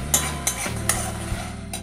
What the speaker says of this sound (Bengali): মশলাটা ভালো মতন কষাবো যতক্ষণ না মশলা থেকে একটা তেল ছাড়ছে